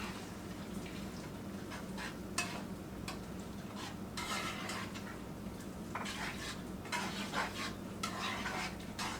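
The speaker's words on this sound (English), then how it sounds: "Get this all stirred up" Meat being stirred in a pot, a quiet, steady sizzle with repeated scraping and clinking of a utensil against the pot.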